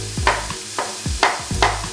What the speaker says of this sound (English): so we're gonna put the onions in